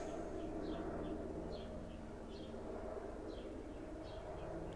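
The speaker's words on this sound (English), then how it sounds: "I understand the birds chirping and stuff" Small birds chirp outdoors, faint repeated high chirps scattered over a steady background hum, with no talk.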